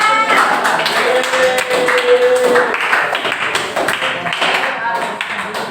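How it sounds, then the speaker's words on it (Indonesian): A classroom of vocational high school students claps together after group presentations, a steady stream of sharp overlapping claps with voices talking and murmuring throughout. "Ayo pada tepuk tangan ya."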